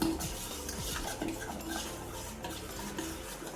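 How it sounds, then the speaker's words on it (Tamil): A spoon stirs sugar and a pinch of salt into a pot of sweet porridge kanji made from health-mix flour, a steady scraping swirl with faint metallic clinks against the vessel, continuous and close. "இதை கலக்கி விடுறோம்"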